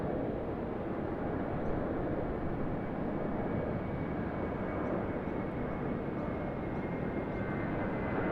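A Jetstar Airbus A320 airliner at Sydney Airport gives a steady, loud, broadband engine roar that holds evenly throughout, with no talk.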